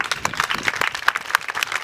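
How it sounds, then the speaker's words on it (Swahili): A church congregation claps together in praise of Jesus, a brief burst of quick, uneven hand claps from many people close by, with no talk over it. "Pigie Yesu makofi."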